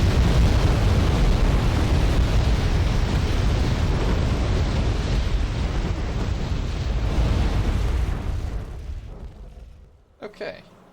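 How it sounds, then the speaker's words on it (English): Bombs strike units in Wargame: Red Dragon with a heavy, sustained rumbling roar of explosions that stays loud for about eight seconds, then fades out, leaving a couple of faint late thumps. "they are about to get hammered by bombs"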